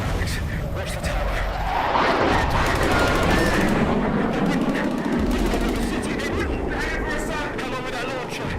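Bursts of gunfire and rocket-launcher blasts in a video-game horde battle rattle and boom in rapid succession while players talk over the fighting.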